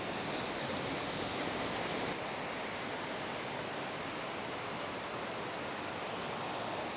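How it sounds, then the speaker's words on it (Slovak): A large waterfall rushes down a hillside near Ella, Sri Lanka, a constant, dense roar heard up close with no voices over it. "Pozrite, až odkiaľ z hora ide ten vodopád."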